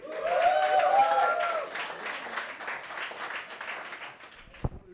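A comedy club audience at a stand-up show applauds and cheers for comedian Shashwat Maheshwari, with loud clapping and whoops that settle into steadier, softer applause, and a single sharp thump near the end.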